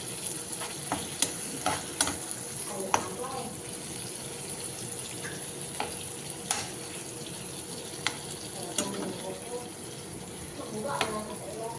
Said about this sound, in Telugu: ఇప్పుడు ఇప్పుడు సోపు మగ్గనిద్దాం